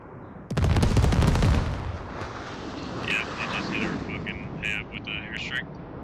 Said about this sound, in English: Aussie commander misses on the airstrike.